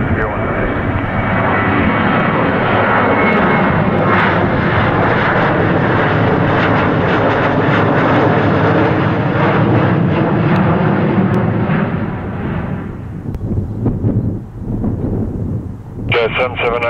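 An aircraft takes off from runway 24 right at Toronto Pearson, a loud sustained engine roar that holds strong for about twelve seconds and then fades, with radio chatter over it.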